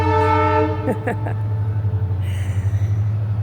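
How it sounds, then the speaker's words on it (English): A train in India sounds its horn in a long, loud sustained blast with a brief broken burst partway through, over a steady low rumble that continues after the horn stops. "You gotta love the train."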